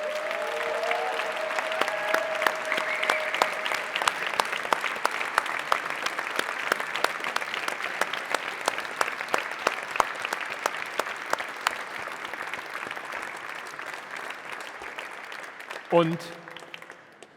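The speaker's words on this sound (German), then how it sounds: "Ich würde Sie sehr herzlich bitten, einen genauso frenetischen Applaus auch noch einmal für das fantastische Team vom Circular Valley Accelerator zu" A conference audience at a startup demo day claps in loud, sustained applause that fills the room for about fifteen seconds before fading, with a voice briefly over the start and a word spoken near the end.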